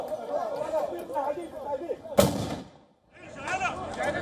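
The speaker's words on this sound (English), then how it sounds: "Israel forces were seen firing tear gas shells at Palestinians and journalists" Israeli forces fire tear gas shells during a West Bank raid: a single sharp, loud launch bang cuts through nearby crowd chatter, then the scene drops to near silence before voices and commotion resume.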